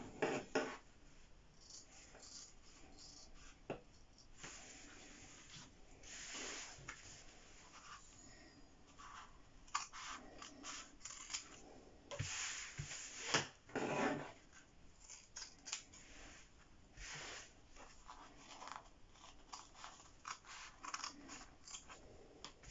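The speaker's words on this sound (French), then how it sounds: "on n'a plus qu'à découper donc nos deux carrés" Scissors cutting two fabric squares, quiet intermittent snipping and rustling of cloth in short bursts, close and faint.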